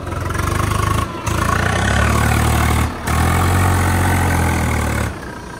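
A Swaraj 855 FE tractor engine idles loudly nearby, a steady low rumbling chug that briefly dips twice before settling back.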